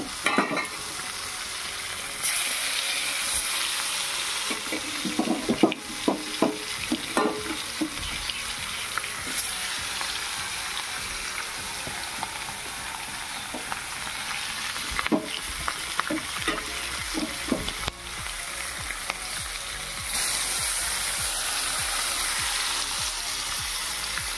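Fish frying in a pan, a continuous crackling sizzle of hot oil lasting the whole time, with scattered pops and occasional clinks and scrapes, no speech.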